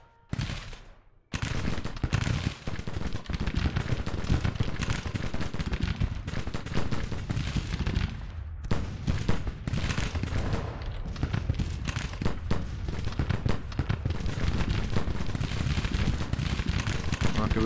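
Dense, continuous volleys of musket and rifle fire in a Civil War battle from the strategy game Grand Tactician: The Civil War, loud and sustained with sharp cracks throughout, a brief hush near the start.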